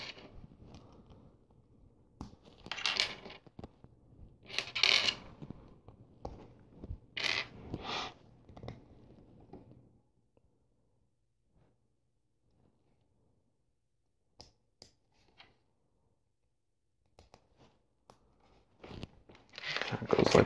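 Plastic LEGO Nexo Knights Black Knight Mech pieces, including hinge pieces, are snapped together up close, making short bursts of crisp clicks and crinkly handling noises, with a quiet pause midway before more clicking.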